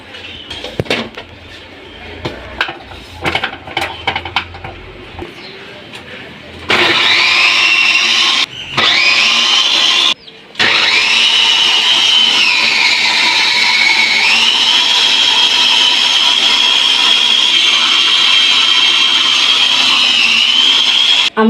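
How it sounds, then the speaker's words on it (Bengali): An electric onion chopper blends ginger, garlic and onion. A few clattering knocks come first, then a loud, steady, high motor whir runs close and continuous, with two brief cut-outs before it carries on. "এখন আমি এটাকে ব্লেন্ড করব।"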